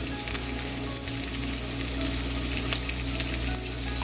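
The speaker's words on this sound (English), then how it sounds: "And now I'm gonna try to sear the other side for a few minutes" A tomahawk steak sears in a hot pan with a strong, dense, continuous sizzle and crackle, close and steady, with no voices.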